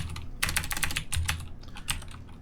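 Quick typing on a computer keyboard, close up: irregular clusters of crisp key clicks with short pauses between bursts, and no talking.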